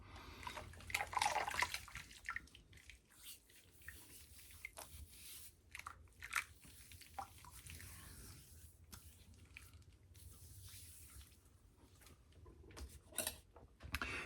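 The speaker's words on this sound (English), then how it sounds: "next thing I'm going to do is I'm going to rinse my face off with this lather" Water splashes as a face is rinsed with lather water after a straight razor shave, irregular wet squishes and splashes coming in bursts, close but fairly quiet, with no talking.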